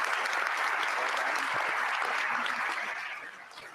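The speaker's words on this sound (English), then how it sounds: "How about a round of applause for Dr." Audience applause for a speaker and three Aggie students at a conference session, a dense sustained clapping that holds steady, then thins and fades over the last second.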